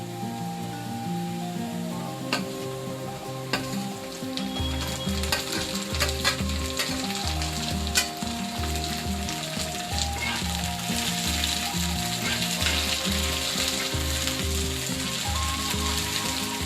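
Onion and tomato sauté in hot oil in a pan for a spicy bombil chutney, giving a loud, constant sizzle and crackle with stirring strokes through it; no voices.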